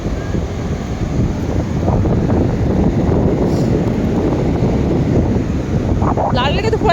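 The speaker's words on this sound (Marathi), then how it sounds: "लाटांचा मधुर आवाज आणि थंडगार वारा मनाला एक वेगळी शांतता देत आहे." Strong cold wind buffets the microphone over the steady wash of ocean waves on Alibag beach, a loud continuous roar with a voice briefly audible beneath it.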